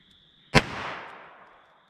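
.38 Short Colt revolver cartridge fired once, a single sharp crack followed by a short decaying echo against a faint steady background hum.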